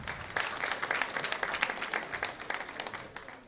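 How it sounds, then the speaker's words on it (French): Audience applause breaks out at an award ceremony in Senegal: many hands clap in a bright, dense patter that swells and then tapers off gradually. "Sous vos applaudissements, s'il vous plaît."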